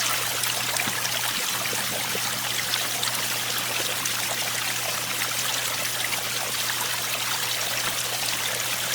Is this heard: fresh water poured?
yes